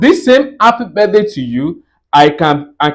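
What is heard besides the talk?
No distinct noise like a dog, phone or traffic.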